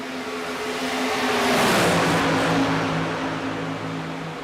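Silver Crown race cars roar around Auto Club Speedway in the iRacing game, a loud steady engine drone that swells as the pack draws close and passes, its pitch sliding downward, then settles into a sustained hum.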